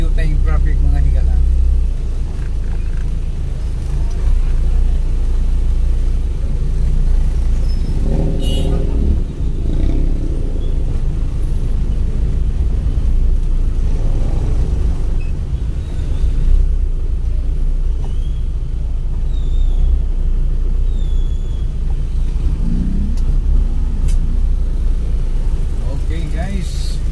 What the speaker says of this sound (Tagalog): adunay diyo tayong traffic